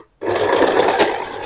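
A sewing machine stitches a blouse in one steady, rapid run that starts abruptly after a brief silence, loud and close with no talk.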